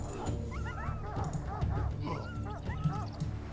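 Dogs barking in the strategy video game Stronghold HD, with several short yips and whimpery barks overlapping in a quick cluster over a busy game backdrop, and a voice talking underneath.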